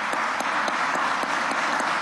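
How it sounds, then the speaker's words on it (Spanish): Dense, steady applause from a large crowd at an outdoor mass health event, loud and continuous throughout with no voices standing out. "un aplauso a la memoria eterna"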